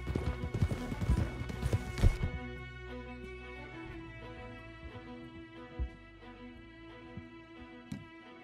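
Horses from Red Dead Redemption 2 clop and thud for about two seconds, loud and close, then slow to scattered hoof steps under a steady low game-music drone.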